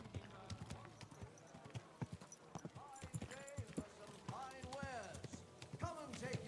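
Horse hooves clip-clop in a steady walking rhythm in the medieval game Kingdom Come, close and clear under frequent spoken dialogue and a voice.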